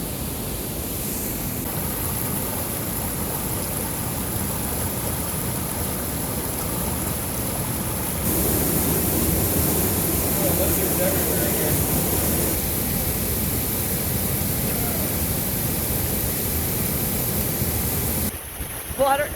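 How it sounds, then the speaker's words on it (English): Deer Creek Falls in the Grand Canyon pours in a steady, broadband roar of falling water that stays loud and continuous throughout, swelling slightly partway through, with no voices over it. "The waterfall behind me is stupidly spectacular. It is Deer Creek Falls"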